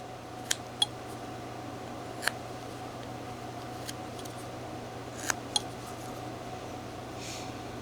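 Small knife cuts into a block of wood while whittling a 3-inch figure, giving a handful of faint, sharp clicks scattered through the clip over a low steady background hum.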